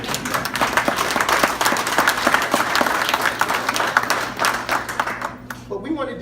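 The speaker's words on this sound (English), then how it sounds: "You can clap for that." Audience applause at a boxing gym naming ceremony: sustained, dense clapping from a crowd, steady and fairly loud throughout, tapering slightly near the end.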